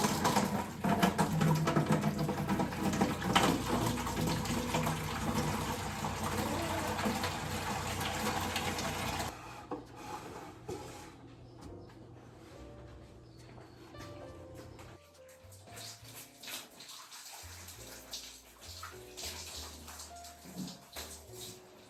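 Water runs steadily from a shower in a home bathroom, a loud continuous rush that drops to a quieter, uneven spray partway through, with no voices.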